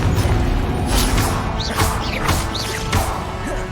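Hogwarts Legacy combat where the Confringo blasting spell goes off: a series of crashing, whooshing impacts a few times within a few seconds, loud against a busy low rumble, with no voices.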